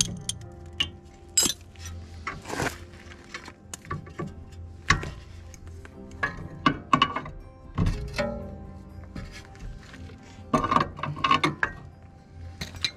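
A 5 mm hex key turning loose the control arm bushing bolt on a Seat Ibiza 6L, with close, irregular metallic clicks, clinks and ratcheting scrapes in bursts against a quiet workshop background.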